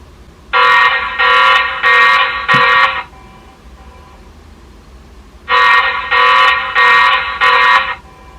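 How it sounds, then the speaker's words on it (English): A TP-Link Tapo C225 Wi-Fi security camera's motion-triggered alarm blares in two bursts of four rapid, harsh beeps each, separated by a few seconds of quiet. "let's turn off the alarm."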